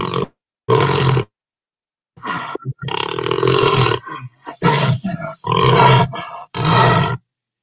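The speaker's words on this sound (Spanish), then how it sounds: "Vamos a escuchar por un momento ese rugido del jaguar." A jaguar roars in a series of deep, rasping grunts, loud and close, with separate bursts broken by silent gaps.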